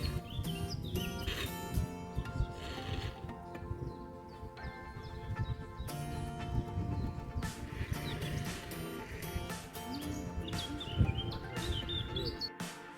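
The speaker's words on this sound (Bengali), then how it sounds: "একটু আগে শুনলেন তো কীরকম স্পষ্ট পাখির আওয়াজ" Birds sing and chirp steadily throughout in Giethoorn village in the Netherlands, a busy mix of bright twittering calls from several birds close by over a continuous outdoor background, with no talking.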